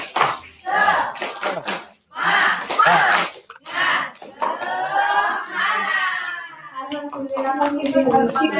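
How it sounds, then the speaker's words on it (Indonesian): A group at an Indonesian teachers' session performs a rhythmic spirit clap, bursts of sharp clapping in patterned groups mixed with chanted voices, with singing-like speech toward the end. "Tepuk semangat."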